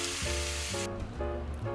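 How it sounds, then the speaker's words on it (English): Meat sizzles and fries in its own fat in a skillet, a loud continuous hiss with shifting crackle and no talk. "the meat itself has fat and it's going to help frying"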